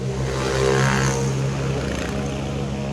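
Kids' pit bikes with no mufflers and small lawnmower-like engines ride around, producing a loud, continuous raspy engine drone that swells slightly as a bike passes fairly close.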